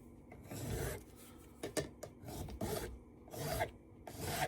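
A hand file held in a clamp-on handle rasps across metal in repeated rhythmic back-and-forth strokes, about seven scraping passes, close and fairly quiet with no talking.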